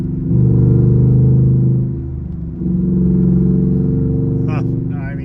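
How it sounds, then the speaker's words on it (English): A race truck's engine rumbles loud and close with a deep exhaust note, dipping briefly then building again in a steady revving drone. "The exhaust note is just right, isn't it?"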